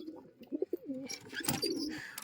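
Giribaz pigeons from Murshidabad coo in a few soft, rounded calls close by, followed by a brief rustle and scattered chirps among the flock.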